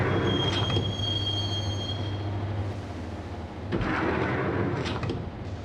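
Subway train riding in the Max Payne video game, a steady loud rumble of wheels on track with a sustained high squeal early on, a brief dip, then renewed rattling and metallic screeching.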